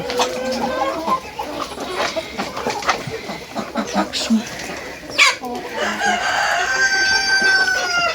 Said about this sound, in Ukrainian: виявляється, в мене три курочки чорні